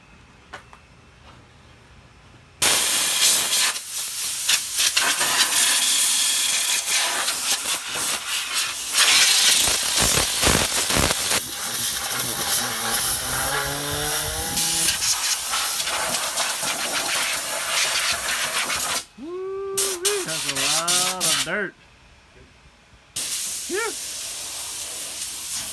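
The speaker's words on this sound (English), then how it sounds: "Andy's gonna blow out the dirt with the compressor" An air compressor blasting dirt out of household air ducts, heard as loud, close hissing air bursts that start and stop abruptly with short quiet gaps between them.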